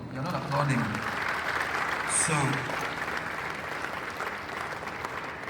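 Audience applause at an automotive launch event in Ghana, a steady, dense wash of clapping that holds at an even level throughout, with voices mixed faintly into it.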